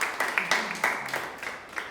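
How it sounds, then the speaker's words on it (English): Scattered audience applause at an interschool debate competition, a short burst of sparse claps that fades quickly, fairly faint and distant. "Clap for yourselves"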